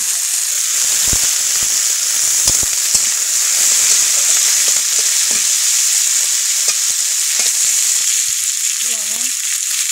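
Potatoes and eggplants sizzle loudly in a hot pan for a home-cooked Bengali curry, with a constant bright crackle of frying and occasional soft stirring knocks. No voices are heard.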